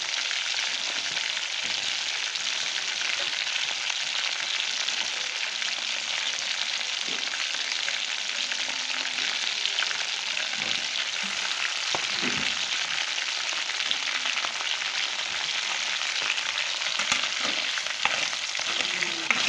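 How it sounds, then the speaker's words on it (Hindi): Steady, dense sizzling of chicken curry with potatoes frying in a pan, a continuous hiss with occasional stirring scrapes and no talking. "इसको भूनें ताकि हमारे आलू भी गल जाएं। फ्राई करें।"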